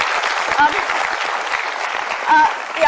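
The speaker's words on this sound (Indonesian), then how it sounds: "Boleh kasih tepuk tangan untuk Mas Apung Widadi." Studio audience at a televised talk show applauding a guest, a steady sustained wash of clapping with a voice briefly cutting through.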